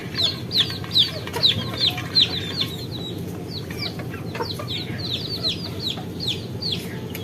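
Young desi chicks being fed give rapid, high repeated peeps close by, over a steady bed of lower clucking from the flock, loudest in the first seconds and then continuing more softly.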